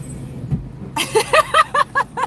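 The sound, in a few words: squeaky vehicle brakes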